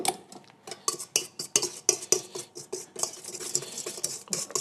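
Icing sugar being mixed into eggs and yolk in a bowl for a praline Christmas log, a series of sharp, close clinks and scrapes of a utensil against the bowl in an uneven rhythm.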